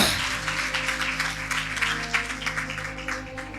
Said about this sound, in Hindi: जोरदार तालियां खुदा उनके कलाम के लिए।